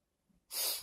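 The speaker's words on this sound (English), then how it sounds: "Sorry for the sniffles, guys." A single short, breathy sniffle through the nose, close and fairly loud after a brief quiet moment.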